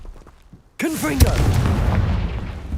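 After a brief hush, the Confringo blasting spell in Hogwarts Legacy erupts in one loud close burst with a swirling whoosh, then a rumbling tail that keeps booming to the end.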